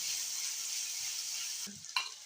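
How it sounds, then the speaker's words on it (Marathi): Ginger and garlic frying in oil, a soft steady hiss of sizzling close by, followed near the end by a couple of quick stirring scrapes. "छान तेलामध्ये फ्राय करून घेऊ आपण"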